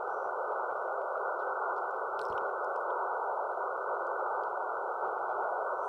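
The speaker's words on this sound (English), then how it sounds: "So here's some guys that are doing an MT63 contact." An MT63 digital radio contact comes through as a steady, wideband block of hissy, noise-like data tones, unbroken for the whole stretch at even loudness, with no talk over it.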